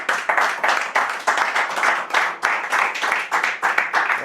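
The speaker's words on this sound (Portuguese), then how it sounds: "Dá um aplauso à palavra do Senhor." A church congregation claps together during a service, a loud, rhythmic run of pulsing applause that continues steadily without talk.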